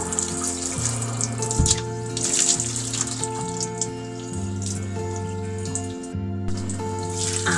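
Tap water runs steadily into a sink while a pet snake that has just shed its skin is bathed, a continuous close splashing flow under background tones.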